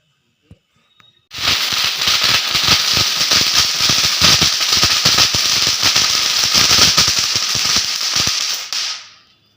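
A long, dense string of firecrackers bursts at a birthday celebration, rapid sharp cracks rattling continuously for several seconds after a brief quiet start, then cutting off abruptly.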